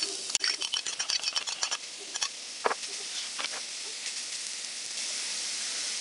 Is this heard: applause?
no